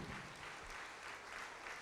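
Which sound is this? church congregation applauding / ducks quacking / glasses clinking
church congregation applauding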